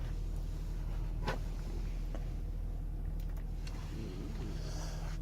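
A 2010 Honda Odyssey EX-L on a test drive gives a quiet, steady low cabin rumble of road and engine noise, with a few faint clicks and no talking.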